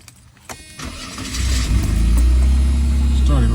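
A 1989 Mercedes-Benz 190E cranks briefly after some handling noise and starts, then settles into a loud, steady idle close by.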